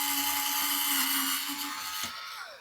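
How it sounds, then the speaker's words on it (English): Power drill boring a 3/16 inch hole in a model rocket part, a close, high whining spin that holds steady and then winds down near the end. "So I have a 3/16 inch drill bit, and I'll just drill that through."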